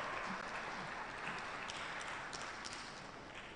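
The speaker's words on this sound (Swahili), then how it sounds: "Makofi mengi, naomba makofi mengi kwao." An audience at a national forum on clean cooking energy applauds, a faint, steady wash of clapping that fades slightly toward the end.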